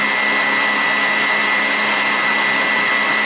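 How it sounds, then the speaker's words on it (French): An electric mixer whips egg whites with sugar, giving a steady, loud, high motor whine with a constant tone and no talk. "je vais laisser tourner jusqu'à ce que mes blancs ils prennent la consistance, une consistance nacrée un petit peu"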